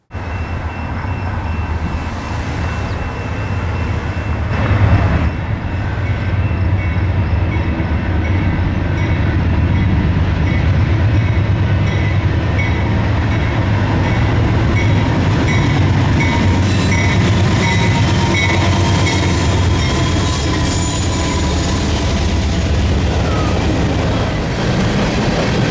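A BNSF manifest freight train powered by two ES44C4 locomotives rolls steadily past at close range near Chicago, a loud continuous rumble and rattle of wagons lasting the whole stretch with no voices.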